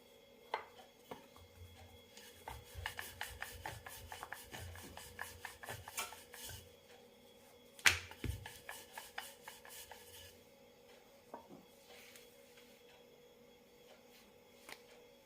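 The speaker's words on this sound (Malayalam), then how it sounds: "അത്യാവശ്യം കനത്തിൽ പരത്തിയെടുക്കണം ഈ ഒരു കനത്തിലാണ് പരത്തേണ്ടത്" Bhatura dough rolled out thick with a rolling pin on a board, a long run of quick rhythmic rubbing and rolling strokes with a few soft knocks, close and fairly quiet, no voices.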